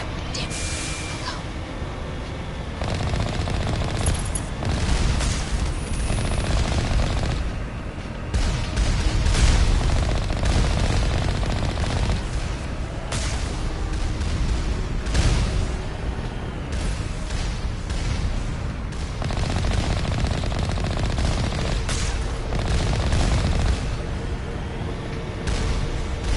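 Heavy turrets firing in the video game Mass Effect: a steady roar of repeated booming blasts rolls on for the whole stretch, loud and dense, with sharper bursts rising out of it now and then.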